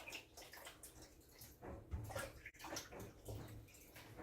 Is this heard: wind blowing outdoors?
no